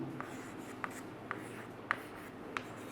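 Pen or marker strokes scratch across paper or a board during a chemistry lesson, several short, faint, evenly spaced scrapes over a steady low background hum.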